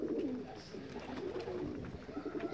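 Pigeons, among them a homing bird back after two days away, coo softly and continuously in low, rolling murmurs, faint and close, with no talk over them.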